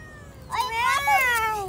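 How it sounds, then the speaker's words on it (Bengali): A cat meows once in a clear, drawn-out call with a rising then falling pitch, close by, over a quiet background. "ও এখন কথা বলতে পারে না, এই শুধু মিয়াও মিয়াও করতেছে"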